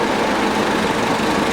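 A Volkswagen Jetta 2.5 engine idling smoothly: a steady, close, even hum with a constant buzzy drone and no variation in pace.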